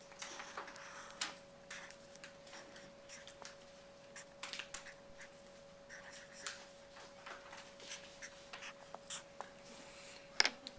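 A pen or marker writes a word by hand in scattered soft scratches and taps, quiet and close, over a faint steady background hum.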